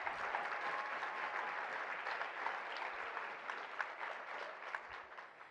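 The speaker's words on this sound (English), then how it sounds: "Let's give him a round of applause." Sustained audience applause for former Maryland Governor Martin O'Malley at a presidential candidates session, a dense, steady wash of many hands clapping that stays loud throughout with a few sharper claps poking out.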